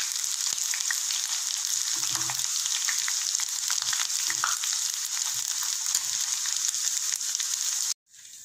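Kara sev dough fries in hot oil with a steady, dense sizzle and bubbling up close, with occasional soft stirring knocks, then stops abruptly near the end.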